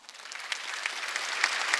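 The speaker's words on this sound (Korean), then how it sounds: "박수 좀 쳐줘요" A church congregation at a Sunday worship service applauds, a steady burst of many hands clapping together, fairly close and filling the room without talk over it.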